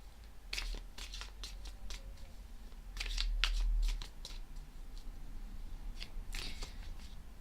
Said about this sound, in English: I will shuffle a little bit more.